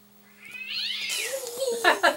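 A phone alert tone, high and drawn-out like a cat's meow, rises and bends downward, with a faint steady hum underneath and a couple of short bright chirps at the end.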